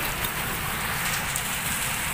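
Heavy rain falls steadily in a Himachal village, a dense, continuous hiss of drops on surfaces that stays loud and even throughout, with no voices.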